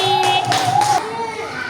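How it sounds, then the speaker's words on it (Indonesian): Students in a fifth-grade classroom give a few quick bursts of clapping for a presenting group, close and short, mixed under a voice speaking over them. "tepuk tangan untuk kelompok 2"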